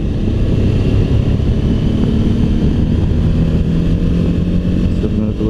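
Suzuki V-Strom 1000 motorcycle engine pulling steadily after a downshift, a loud, continuous rumble heard from on board with heavy wind noise throughout.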